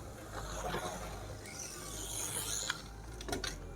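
A Revo slot car rolls over on a large track, giving rattling, clattering plastic tumbles and scraping mechanical ticks with a few sharp knocks near the end.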